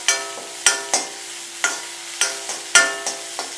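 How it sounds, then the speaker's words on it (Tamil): Lemons being sautéed and mashed in a pan for lemon gojju, heard as a series of sharp, ringing scrapes and knocks against the pan at an irregular pace, close and fairly loud, with no talking. "எலுமிச்சம்பழத்தை நல்லா இது மாதிரி வதக்கிக்கணும்"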